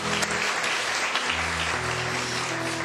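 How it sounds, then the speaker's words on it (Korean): Church congregation applauding together in a worship service, a steady wash of clapping with faint organ or keyboard tones held underneath throughout. "우리 서로를 향해서 힘찬 격려의 박수로 나누겠습니다"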